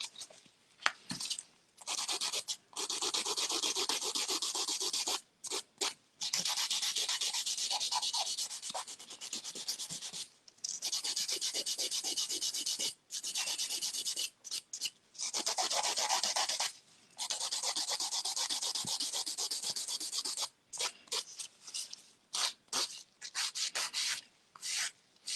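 An electric nail file buffs a dip-powder manicured nail in a salon setting, a steady close whirring grind running in long stretches broken by brief pauses as the file lifts off.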